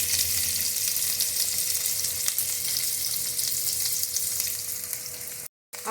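Capsicum and beans frying in a pan give off a loud, even sizzle close by, with faint stirring touches and a brief dropout near the end.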